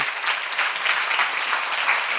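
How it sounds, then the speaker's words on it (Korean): A church congregation at a seminar breaks into dense, steady applause, many hands clapping together loudly and continuously. "박수로 하세요"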